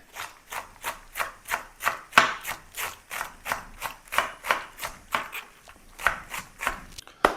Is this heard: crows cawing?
no